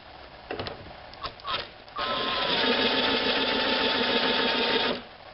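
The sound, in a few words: impact wrench spinning a magneto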